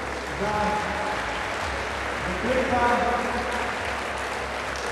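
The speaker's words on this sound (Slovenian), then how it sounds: "Velik aplavz" A crowd at a sports awards gala gives sustained applause to the Konjice women's basketball club, with steady clapping that swells briefly midway while an announcer speaks over it.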